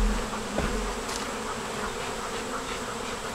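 A dense, continuous buzz of many honey bees swarming close by at their hive as they return in the afternoon, steady and fairly loud, with no voices.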